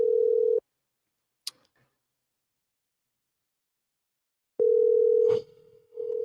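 Telephone dial tone while placing a call: a steady tone cuts off abruptly, a click follows, then after a pause the tone resumes with brief dialing blips.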